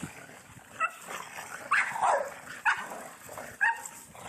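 Puppies bark and yip in short, sharp bursts while playing and running around indoors, several loud close barks spaced through the clip over a busy background of scuffling.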